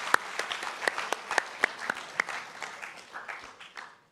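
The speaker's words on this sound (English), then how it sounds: "Can we just give a round of applause to our opposition tonight?" Scattered applause from an audience at a school debate, a sparse set of distinct hand claps over a few seconds, fairly faint and fading out toward the end.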